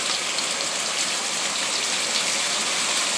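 Heavy rain pours down steadily during a blustery storm in the San Diego area, a dense, loud and unbroken wash of falling water with no voices heard.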